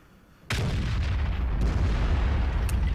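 Artillery fire in the World of Tanks video game, playing a T92 self-propelled gun: a sudden loud boom at the start that rolls into a sustained heavy rumble, with a faint distant crack near the end.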